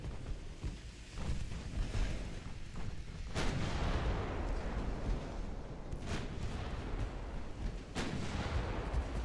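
Heavy gunfire and artillery booms from a firing line in a war video game, a dense continuous rumble of distant blasts punctuated by a few sharper, louder explosions.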